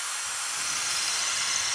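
A steady high-pitched drill whine runs continuously and loudly, close by, with no pauses, drilling holes through wood plates pinned together.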